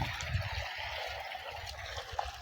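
Irrigation water flows through a farm field as a faint, continuous trickle and gurgle, low and steady with no voices.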